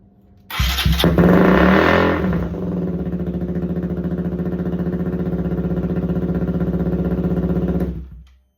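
A motorcycle engine roars into a loud, close rev, then drops to a steady rumbling idle that runs for several seconds before cutting off.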